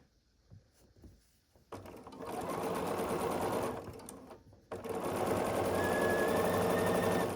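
A sewing machine stitches the seams of a log cabin quilt block in two long whirring runs, close and steady, after a few soft clicks and a brief pause between them.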